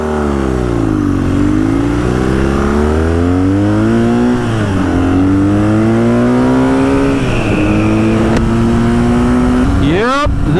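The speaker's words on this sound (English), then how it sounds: "this bike has got some get up and go" A 2022 BMW R NineT Scrambler motorcycle revs hard and accelerates, its engine note climbing and dipping through several gear changes, loud and close for the whole stretch, with a rising surge right at the end.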